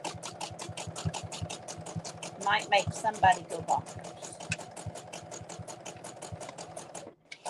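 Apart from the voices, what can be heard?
sewing machine running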